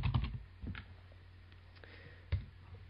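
Someone types on a computer keyboard in short bursts of quiet, close clicks, with a few keystrokes near the start, another around the middle and a firmer tap near the end, against a low hum and no speech.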